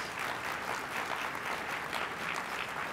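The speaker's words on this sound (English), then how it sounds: "Give yourselves a round of applause." Steady applause from a luncheon audience at a mayors' annual meeting on climate protection, a dense, even wash of clapping that holds throughout with no voices over it.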